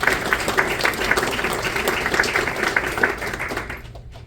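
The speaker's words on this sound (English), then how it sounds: "big round of applause for our planning committee" Steady, moderately loud applause from a Lake Michigan Day event audience thanking the planning committee, a dense wash of claps that tapers off near the end.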